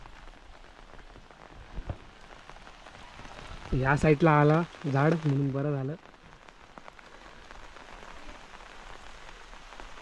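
Rain pattering steadily outdoors in a village after a stormy night, a continuous wet hiss with scattered drops, while a person speaks briefly in the middle.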